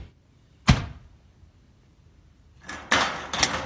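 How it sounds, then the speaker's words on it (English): A homemade air vortex cannon built from a bucket, fitness bands, a plastic bottle and duct tape fires a sharp, loud thump, followed a couple of seconds later by two more close, forceful bursts. "he built a powerful air vortex cannon that works great."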